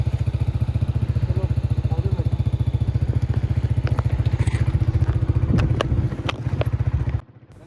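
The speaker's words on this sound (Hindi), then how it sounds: "बाइक को स्टार्ट कर दिया हुआ है।" A motorcycle engine running on a mountain jeep track near Fairy Meadows, a loud, close, steady rapid putter with clattering and knocks riding over it, faltering briefly near the end before cutting out abruptly.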